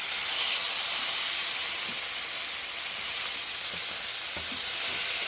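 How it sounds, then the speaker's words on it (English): Rib-eye steaks sizzling in a pan just after being flipped, a bright, steady hiss of frying with small pops and crackles, close and loud, with no talking. "I'm going to go ahead and flip my steaks"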